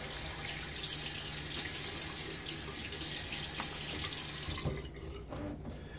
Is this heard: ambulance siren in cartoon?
no